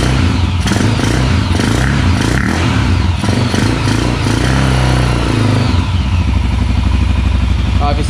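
A Honda 400EX ATV engine, freshly carb-cleaned, runs at a steady, loud, chugging idle throughout, with some clatter and a voice talking over it.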